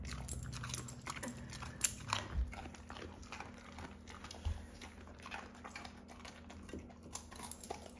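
A dog chews a raw carrot, making quiet, irregular crunches and bites close by against a low background hum.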